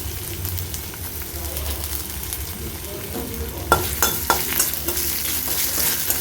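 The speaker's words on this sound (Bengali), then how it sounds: "এটা ভালো করে ভাজতে থাকবো।" Black mustard seeds, whole cumin and chopped ginger frying in oil over a low flame, a continuous sizzle with a few sharp pops and clinks toward the end, no voices.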